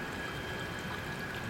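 Windshield washer fluid pours from a bottle into a car's reservoir, giving a steady, even trickling stream that sounds close and continuous, with a faint high tone running underneath.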